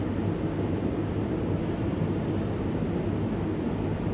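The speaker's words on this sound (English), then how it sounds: "oh, we have a passing train, it says on the board now" An Oslo Metro train runs past a station platform early in the morning, a steady loud rumble of wheels and motors throughout with no voices.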